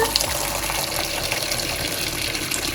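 Hot water gushes steadily from a tap in a Russian banya, a loud, continuous rushing stream close by with no break.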